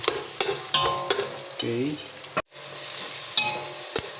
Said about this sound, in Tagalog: halo na natin yung onions together with the garlic and ginger